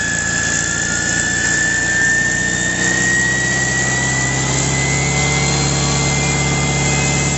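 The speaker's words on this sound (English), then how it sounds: "Winding up the engine there." A diesel-fuelled jet truck engine winds up loudly and continuously, its high whine climbing steadily in pitch over a heavy low rumble, with no voices.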